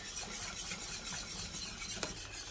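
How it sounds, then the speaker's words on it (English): Flour and milk sauce is whisked in a pan on the heat, a faint continuous scraping and swishing with a brief clink near the end. "add a bit more milk, back on the heat, give it another whisk"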